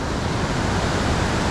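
Dense, steady broadband roar of rushing water from Main Falls on the Youghiogheny River at Ohiopyle, continuous and full, with no breaks or voices.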